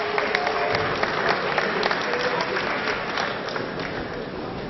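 An audience at a university public lecture applauds with sustained, steady clapping that fills the room throughout, with no speech over it.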